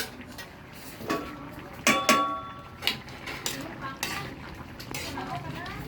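A lid clanks and rattles onto a metal cooking pot of ginataang puso ng saging with mung beans, several sharp ringing knocks and scrapes over soft simmering while a person talks.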